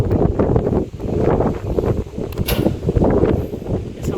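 Gusty wind buffeting the microphone at the Ibri fort ruins, a loud, uneven rumble that rises and falls in irregular gusts, with a brief sharp rustle partway through and no talking.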